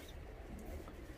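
Domestic pigeons (Kalpare Madrasi breed) in a loft in Naraina village, Delhi, give low, soft cooing that is faint and blended into a steady murmur, with no clear separate calls over the short stretch.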